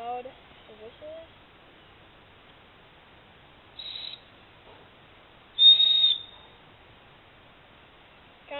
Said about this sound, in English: I'll show you how loud the whistle is